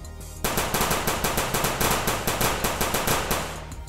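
Rapid automatic gunfire effect, a steady burst of sharp repeated shots lasting about three and a half seconds, loud and close, with no talk.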